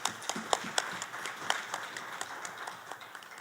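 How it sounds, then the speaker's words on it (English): Light, scattered clapping from a small conference audience, with sharp individual claps standing out over a steady patter, fairly quiet and without any talking. "give yourself a round of applause for that tremendous work"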